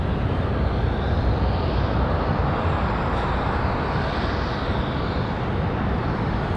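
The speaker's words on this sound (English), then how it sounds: "That MAX 8 getting ready to touch down in just a minute." A Boeing 737 MAX 8 arriving from Miami approaches to land at Raleigh-Durham International, its engines producing a dense, steady roar that stays strong and even throughout.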